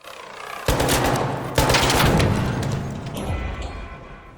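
Gunfire in the video game Arc Raiders on PS5 Pro: two sharp, loud bursts of rapid shots, each followed by a rumbling echo that slowly fades, with no talking.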